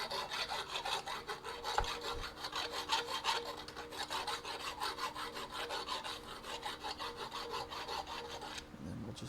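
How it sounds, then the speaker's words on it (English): A file or round deburring tool rasps across the back side of a metal workpiece in a garage, a steady rhythmic scraping of repeated strokes, fairly close and with no talk over it. "So you got to deburr the other side."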